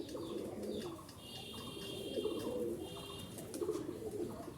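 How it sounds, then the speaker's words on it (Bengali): Jalali pigeons cooing softly in a loft, low repeated throaty calls rising and falling over a faint background hiss, fairly quiet and without voices. "এই দেখেন কবুতরগুলো ডাকতেছে"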